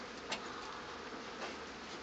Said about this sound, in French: Ça commence à bourdonner.